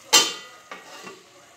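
A spoon scrapes and clinks in a pan of stuffed baby onion curry with curd, one sharp stroke followed by two softer ones, close and without talk.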